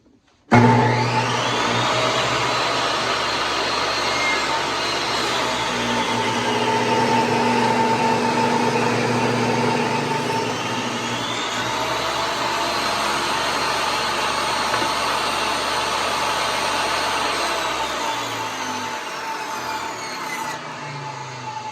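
A power tool cuts straight through a wooden board, a loud continuous whirring drone that rises and falls in pitch as the blade works through the wood, close and unbroken for about twenty seconds.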